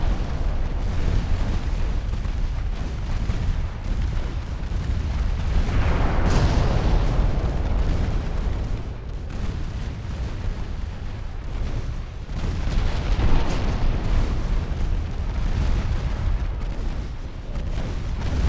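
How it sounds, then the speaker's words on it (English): Torpedo hits exploding against a cruiser in the naval game UAD: heavy rumbling booms roll one into another, loud and continuous, with a stronger blast cluster in the middle and more later. "I score 5 torpedo hits."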